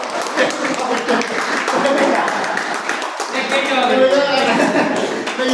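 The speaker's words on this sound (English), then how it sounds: "big round of applause" Applause at a meeting: a room of people clapping steadily for several seconds, with talk and chatter mixed in throughout.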